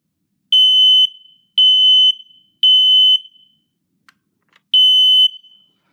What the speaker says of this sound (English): This is a Kiddie photoelectric smoke alarm.